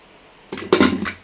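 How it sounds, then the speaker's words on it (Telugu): A pressure cooker lid set down and fitted onto a pot of dal with greens, giving two close metallic clanks and a short scraping rattle after a quiet start. "మొత్తం కలిపేసి మనం ప్రెషర్ కుక్కర్ మూత పెట్టేసి"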